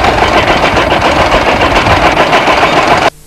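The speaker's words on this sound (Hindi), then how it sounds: "ट्रैक्टर साहब अभी आ रहा है" A tractor engine running loud and close, a dense, steady mechanical clatter with a rattling texture that cuts off abruptly near the end.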